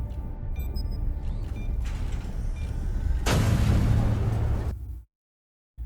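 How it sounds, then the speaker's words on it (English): A grenade blast in the sci-fi TV series The Expanse, a sudden loud broadband burst that roars for over a second amid a rumbling background, then cuts off abruptly into silence. "He's just gonna throw a grenade?"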